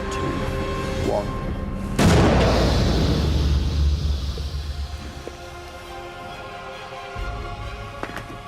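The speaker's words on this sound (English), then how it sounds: "that worked like a cannon should work." A gunpowder-charged cannon fires a tennis ball with one sudden loud boom, followed by a long rumbling decay and fading echo, over faint background noise.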